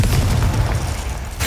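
A Confringo fire spell bursts in Hogwarts Legacy, a loud, sustained booming blast with heavy low rumble that holds steady for over a second and flares again briefly at the end.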